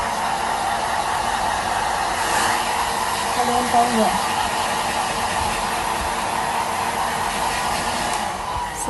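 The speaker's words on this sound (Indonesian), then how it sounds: "Ini aku udah di hair dryer" A hair dryer meant for drying cat fur blows with a loud, steady whooshing roar throughout, close up, while someone briefly speaks over it.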